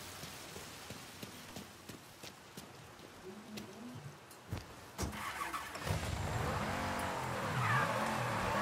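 An in-game car in Mafia 3 cranks over and pulls away, the engine note rising into a steady drive with a broad whoosh of movement building after a few quiet seconds of distant ambient sound.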